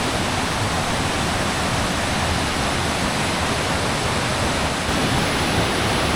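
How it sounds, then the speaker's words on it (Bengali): Waterfalls cascade down on all sides near a long hanging bridge, producing a loud, unbroken roar of rushing water that stays steady throughout with no other sounds. "চারিদিক থেকে ঝর্ণা নামছে।"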